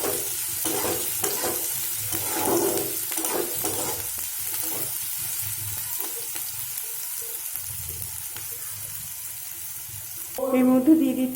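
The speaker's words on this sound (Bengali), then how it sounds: "এবার দিয়ে দিচ্ছি গাজর আর বিনস কুচি। এটাকে 1 মিনিট মতো একটু ভালো করে ভেজে নিতে হবে।" Chopped carrots and beans frying in a pan for masala macaroni pasta, a steady sizzle with scraping stirs running throughout, some spoon and pan knocks, and a louder clatter near the end.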